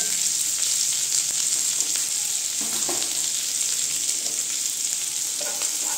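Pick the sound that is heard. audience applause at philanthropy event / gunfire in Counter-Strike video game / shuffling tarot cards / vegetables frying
vegetables frying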